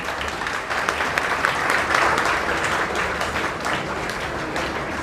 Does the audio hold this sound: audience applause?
yes